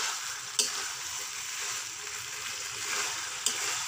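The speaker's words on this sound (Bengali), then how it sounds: "ভেজে রাখা সয়াবিনটা দিয়ে দিলাম। এবার একটা সুন্দরভাবে কষাবো।" Soybean chunks fry with potato and pointed gourd in a pan, giving a steady close sizzle throughout, broken by two brief clacks of a spatula stirring the mix.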